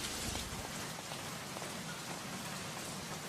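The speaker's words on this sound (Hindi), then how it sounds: "ये बम्बई की बारिश भी ना. I hate rain." Steady heavy Bombay rain pours down in a dense, continuous hiss, with drops pattering on hard surfaces throughout and no voices.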